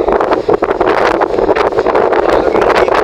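Strong typhoon wind buffets the microphone in Caibiran, Biliran, Philippines, a loud, continuous roar with gusty rumbling surges and no clear pauses.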